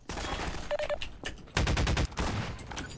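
Bursts of gunfire in Half-Life 2, several clustered volleys of shots coming close and loud across the moment with short gaps between them.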